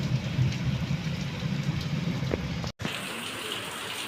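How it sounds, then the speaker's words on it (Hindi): Rainwater pours heavily off a house roof during monsoon rain, a steady dense rushing gush that is loud and close, with a brief dropout near the middle and no talking. "ऐसा लग रहा है कि वाटरफॉल है, बहुत तेज पानी गिर रहा है।"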